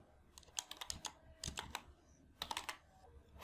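Quiet typing on a computer keyboard comes in three short clusters of rapid keystrokes, close and soft, with no one talking.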